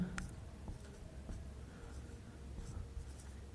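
Chalk or marker scratching across a board during a Class 12 maths lesson on three-dimensional geometry, a few faint soft strokes and taps over a low room hum, with no talking.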